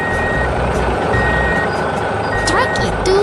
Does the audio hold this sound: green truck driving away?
yes